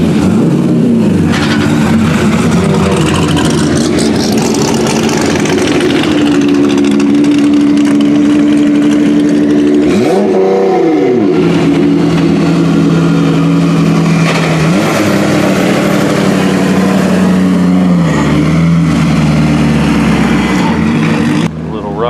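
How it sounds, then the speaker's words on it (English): A Corvette at the 2018 Drift Atlanta event: a loud, close engine idling with a rough rumble, rising in a brief rev around the middle and settling again, with constant event noise around it. "Here comes a Corvette."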